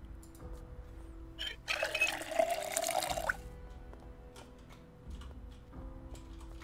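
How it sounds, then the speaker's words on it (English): Water gushes into a container for about a second and a half in the video game Project Zomboid, a loud broadband rush that ends abruptly, set among quieter game ambience and soft ticks. "Let's fill up our water again."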